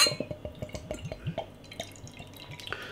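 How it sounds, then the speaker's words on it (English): Vibrant Forest Imperial Red IPA pours from a bottle into a glass, a quick run of gurgling, splashing glugs settling into a softer fizzing trickle, close by with no talk. "Beer in the glass then."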